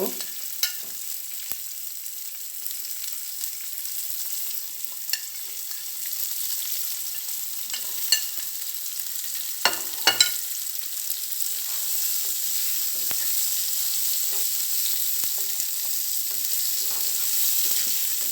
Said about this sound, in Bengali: এখন আমি একে একে ক্যাপসিকামগুলা দিয়ে দিব।